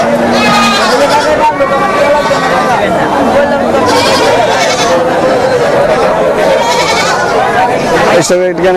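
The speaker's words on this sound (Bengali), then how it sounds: "এদিকে কিছু ছাগল দেখতে পাচ্ছি কাস্টমার ওদেরকে ঘিরে ধরেছে" Goats bleat repeatedly at a busy livestock market in Bangladesh, loud and close, over a constant babble of crowd chatter and people talking nearby.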